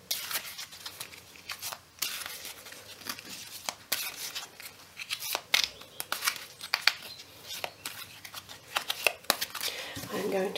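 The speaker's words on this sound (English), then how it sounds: "So let's just take a shuffle and see what's coming ahead for Virgo for September." Tarot cards being shuffled by hand, bursts of riffling and sliding card noise coming in irregular clusters close to the microphone, with a person talking over and between them.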